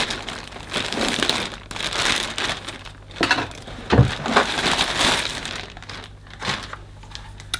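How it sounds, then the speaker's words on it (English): A box cutter slices and tears through cardboard and plastic packaging of a Karcher VC 6 vacuum cleaner, giving close, irregular bursts of crunching, ripping and crinkling with short pauses between strokes. "Right, I'll try my box cutter."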